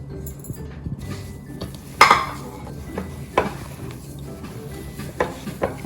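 Spices for aloo seekh kabab stirred in a bowl, soft scraping and stirring with occasional sharp clinks of a spoon against the bowl, close and fairly quiet.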